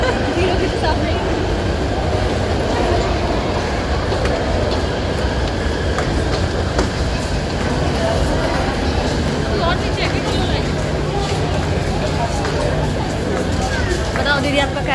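A train runs through the crowded Kashmiri Gate metro station in Delhi, its steady, loud rumble and rattle blending with constant crowd babble.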